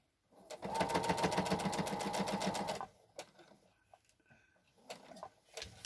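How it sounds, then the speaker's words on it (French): A sewing machine stitches the final seam of a baby romper sized for six months, running in one loud, steady burst of rapid stitching for about two and a half seconds, then stopping to leave a few faint clicks and handling noises. "je termine ma couture tout simplement en prenant les deux cette fois-ci"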